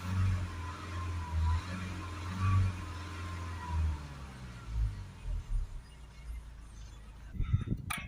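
A diesel car's engine is revved during DPF cleaning, a steady low drone with rising and falling surges, ending in a few sharp clattering knocks.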